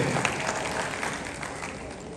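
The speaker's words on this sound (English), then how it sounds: "I believe that is a round of applause." Round of applause from a conference audience at an Africa Prosperity event, a dense, steady wash of clapping from many hands filling the hall, with no clear breaks.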